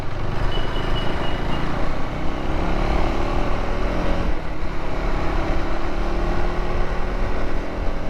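A 2025 KTM 390 Adventure motorcycle engine held at around 4,500 to 5,000 rpm, producing a steady, loud, close-up growl that drones continuously without a break.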